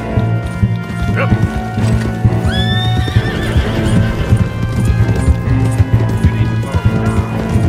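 A horse in Red Dead Redemption 2 whinnies loudly with a rising, wavering neigh amid clip-clopping hooves and busy game noise, while people talk over the action.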